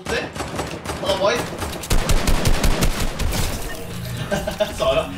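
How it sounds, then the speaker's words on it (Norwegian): Rapid gunfire from a Fortnite build fight, a quick burst of shots with loud clustered cracks in the middle and scattered shots around it, heard under game noise. "Nei, jeg brukte alt for mange skudd."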